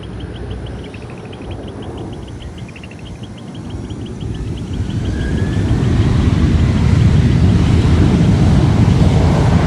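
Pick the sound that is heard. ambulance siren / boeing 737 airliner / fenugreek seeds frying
boeing 737 airliner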